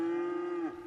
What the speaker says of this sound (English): Really, cows?